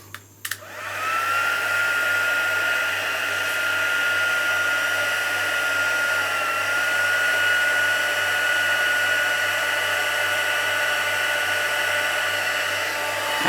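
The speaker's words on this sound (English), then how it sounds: "The magic of heat embossing never fails to amaze me." Heat embossing tool blowing hot air over a greeting card, a steady loud whirring hiss with a constant high whine that switches on after a couple of faint knocks and runs alone for the rest of the clip.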